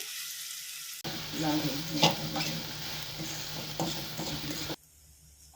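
Cabbage stir-fried in a hot pan for Schezwan noodles, with a loud, steady sizzle and frying hiss, the clatter of stirring mixed in, running for several seconds before cutting off abruptly.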